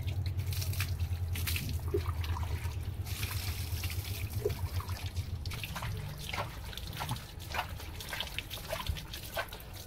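Water trickles and splashes in bursts as it is poured from a mug over Max the dog during a bath, with steady dribbling and dripping throughout under a low background hum.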